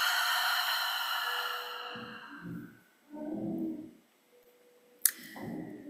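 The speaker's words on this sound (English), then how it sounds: "and a slow breath out" During a seated meditation, a slow, soft breath out follows a fading sustained musical tone. Several breathy, hushed exhalations come close to the microphone, with brief pauses between them.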